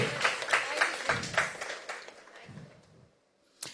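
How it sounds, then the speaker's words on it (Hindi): A church congregation claps briefly and loosely, the bursts of clapping fading over a few seconds and mixed with some voices, before a short pause and a sharp final sound. "Clap your hands and thank God for such people."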